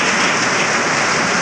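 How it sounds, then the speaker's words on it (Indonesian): Heavy rain pours steadily during a flooding downpour, a dense unbroken hiss with no voices over it. "Hujan pertama kali kuat lagi menyebabkan banjir."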